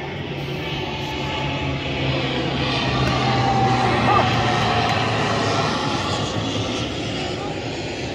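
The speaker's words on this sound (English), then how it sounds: "This plane come right over our head." A fixed-wing airplane flies right overhead near the University of Rochester football field during a night game, its steady engine roar swelling loud and close, then holding as it passes, with crowd noise beneath.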